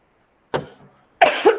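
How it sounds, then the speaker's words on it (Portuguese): Two bursts of coughing: a single harsh cough, a pause, then a louder cluster of rapid coughs, close and alone. "Tô tossindo no ouvido de vocês"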